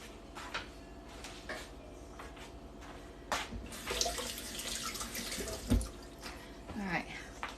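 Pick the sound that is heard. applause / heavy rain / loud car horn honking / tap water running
tap water running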